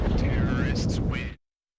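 A bomb goes off in a Counter-Strike 2 esports match, a loud, rumbling blast that fills the first second and a half under an excited commentator's voice, then cuts off abruptly to silence.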